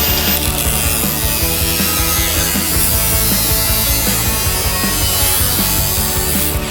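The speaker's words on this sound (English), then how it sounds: "Now I'm just running a cut down the edge of all of the rear quarter." Loud, steady cutting rasps continuously as a power tool runs a cut along the edge of a fire-damaged BMW G82 M4 Competition's rear quarter panel, close up, with no voices.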